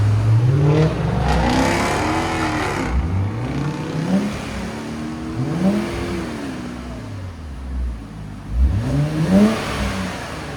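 A 2021 Infiniti Q50 with a 3.7L V6 and an Invidia Gemini cat-back exhaust revs up several times, its loud, close engine note rising and falling in repeated throttle blips, with no speech.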